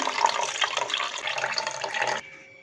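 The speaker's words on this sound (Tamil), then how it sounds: "தண்ணி இல்லாமல் சுத்தமாக வடித்தாச்சு" Water drains off soaked rice in a short splashing pour that stops abruptly.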